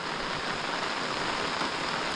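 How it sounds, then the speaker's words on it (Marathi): Heavy rain pours down in a Konkan village, a steady, dense, unbroken hiss of drops striking surfaces close by, loud and uniform throughout with no voices. "हे बघा केवढा पाऊस पडतो आहे"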